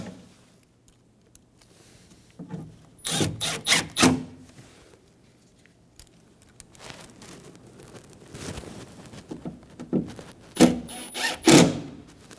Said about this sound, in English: Install the screws for the speaker.